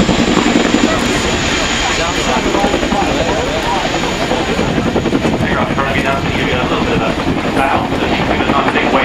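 A Chinook helicopter flies at the 2011 Waddington Airshow, its loud, continuous rotor and engine roar filling the whole stretch without a break.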